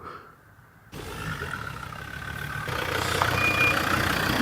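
A car engine is running nearby outdoors. Its steady rumble rises after a quiet start and grows gradually louder as if it is coming closer.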